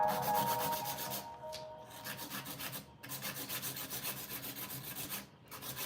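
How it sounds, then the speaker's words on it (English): A hand file rasps back and forth across the top of a polygel nail on a practice hand, rhythmic close scratchy strokes with brief pauses between passes. "So I'm filing all across the top."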